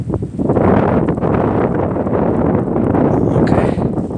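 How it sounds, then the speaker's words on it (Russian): Strong wind from a snowstorm blasts the microphone with a loud, continuous buffeting roar, close and unbroken, with no voices heard. "Эх, жалко, что ветер такой сильный вообще."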